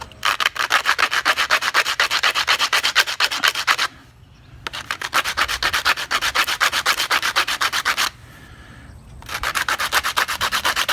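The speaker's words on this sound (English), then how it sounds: "The belt sander here has some really coarse sandpaper on it, so I'm using that just to wear down the edge of that plug right there." A belt sander fitted with very coarse sandpaper grinds down the edge of a reclaimed-wood plug, a loud continuous rasping that stops twice briefly and then resumes, with no voices.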